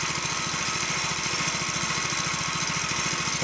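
Small go-kart engine with a centrifugal clutch running steadily at idle, a close, continuous buzzing putter with a fast even pulse and no talk over it.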